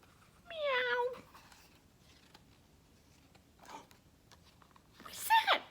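A voice imitates a cat's meow, a single drawn-out call near the start, followed by quiet pauses and a brief sharp rustle toward the end.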